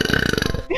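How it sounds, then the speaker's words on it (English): A loud, close burp lasting under a second, with a rippling, pulsing texture that cuts off abruptly, heard from a player during a GTA and Minecraft gaming session. "put your microphone to your neck when you burp"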